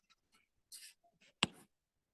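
Pen writing math equations, a few scratchy strokes and taps at close range, ending in one sharper tap, with quiet gaps between strokes.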